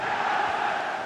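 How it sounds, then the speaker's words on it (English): A dense, steady stadium crowd roar from an FC26 Manchester United vs Liverpool match rumbles continuously at moderate volume, with no distinct voices rising above it. "The crowd certainly think so. Just listen to them."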